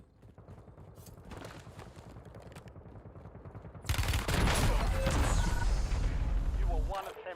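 Rapid AK rifle fire in a multiplayer shooter game, loud sustained bursts of automatic shots with heavy booming low end, preceded by quieter game noise, with voices talking over the action.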